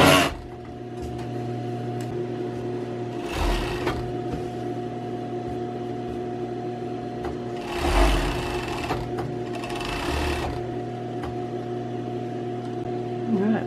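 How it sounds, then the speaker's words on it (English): Sewing machine stitching a scrap-fabric patchwork doll blanket, a steady whirring drone held throughout, with a few brief louder bursts of fabric handling and near-field noise. "let's sew that up"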